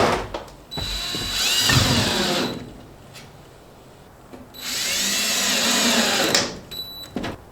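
A power drill drives screws through siding brackets into wall studs during a mobile home siding repair, two long whirring runs separated by a brief pause, with short trigger blips at the end.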